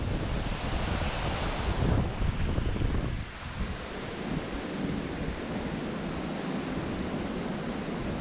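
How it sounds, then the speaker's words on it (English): A river flows outdoors in Vermont, a loud continuous rush of water close by with some wind buffeting the microphone and no talk. "You're going to be able to hear with all this water"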